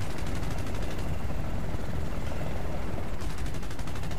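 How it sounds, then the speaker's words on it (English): Rapid machine-gun bursts from an anti-aircraft gun firing at a helicopter in Battlefield: Bad Company 2 rattle continuously and loudly over a dense rotor and engine drone, with no voices heard. "Shoot that fucking AA that's shooting at us over in the yonder."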